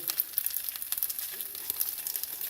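Leftover pasta with sausage and peas reheating in a pan, frying with a steady, dense sizzle and crackle throughout, with scattered pops and brief stirring clinks, close and continuous with no voices.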